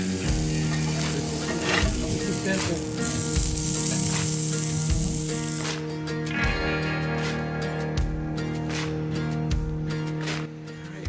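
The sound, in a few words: sausages frying in a pan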